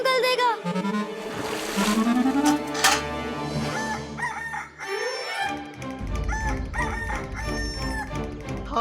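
A rooster crows loudly and close with long rising calls, set against a bright musical backing score; no speech is heard.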